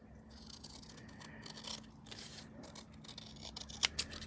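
Scissors snip around a die-cut paper outline in a quiet craft setting, producing soft, close cutting crunches with a few sharper snips near the end, faint over a low background hum.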